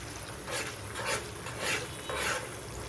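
Chicken being stirred and mixed with yogurt in a pan makes soft, rhythmic scraping swishes, four gentle strokes close by with no talk.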